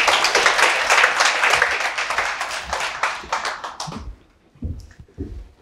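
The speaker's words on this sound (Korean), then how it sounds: "노주현 학생 박수 한번 크게 치겠습니다" A lecture-hall audience at a civil service exam prep orientation applauds a student, brisk dense clapping for about four seconds that stops abruptly, leaving a few scattered claps and faint room noise.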